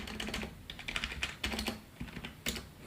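Quick, muffled key presses on a Logitech G105 membrane keyboard, an irregular burst of dull taps close to the microphone, with brief pauses between strokes.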